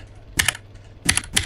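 Typewriter-style keyboard clicks come in three short, crisp bursts of rapid keystrokes, close and fairly loud, with quiet gaps between them.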